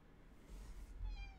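A house cat gives a single short meow near the end, close and clear, over a quiet indoor room hum with no voices.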